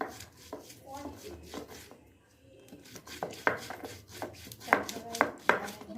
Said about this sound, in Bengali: তার জন্য ধনে পাতা, কাঁচা লঙ্কা ভালোভাবে একটু বেটে নিচ্ছি।